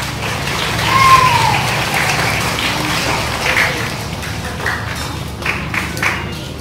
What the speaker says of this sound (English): So let's clap our hands.